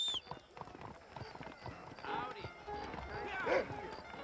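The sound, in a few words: horse approaching in video game Red Dead Redemption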